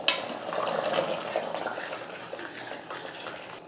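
A soft, bubbling simmer of kurma curry in a pot on a low stove flame, with faint stirring and utensil clinks, fairly quiet and close.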